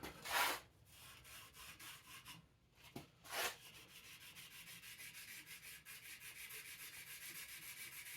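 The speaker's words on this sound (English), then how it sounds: "I'm going to rough it up real good so that the epoxy has a rough surface to bond into" Abrasive rubbing as the tip of a golf shaft (a Modus 120 going into a TaylorMade Stealth iron) is roughed up for epoxy. Steady sanding scrapes run close and continuous, with a couple of brief louder strokes near the start.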